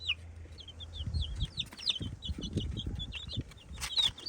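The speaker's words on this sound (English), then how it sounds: "she notices that the rest of her pack is gone, so that's a call for where are you guys?" A hen in a backyard chicken flock gives repeated high calls and clucks, searching for the rest of her group, with close scratchy movement and ruffling beneath.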